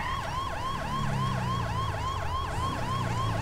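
A police car siren in the GTA V video game with the LSPDFR police mod wails loud and close in a fast, repeating up-down yelp, over the low rumble of a moving vehicle.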